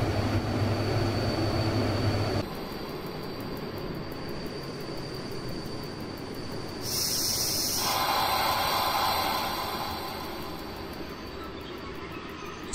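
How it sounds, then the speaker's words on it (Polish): An EU07 electric locomotive in the MaSzyna train simulator game brakes to a stop: a steady rolling rumble gives way to hissing brake air and a high metallic squeal, then a long release hiss as the train halts. "Zatrzymujemy pociąg przy peronie."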